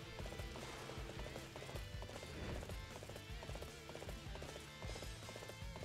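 Horse hooves gallop in the Dynasty Warriors 8: Xtreme Legends video game, a steady rapid clip-clop running loud and continuous through the whole stretch, layered with dense game music and battle ambience.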